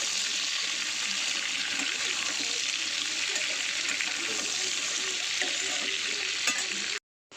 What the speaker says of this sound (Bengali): আলুগুলো আগে দিয়ে দেবো, দিয়ে একটু লাল লাল করে ভাজবো